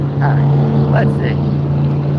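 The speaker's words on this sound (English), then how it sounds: "Loud boats. Some loud boats right there." Loud motorboats pass near a saltwater fishing spot, their engines a heavy, steady drone that fills the whole moment, with a voice briefly audible over the noise.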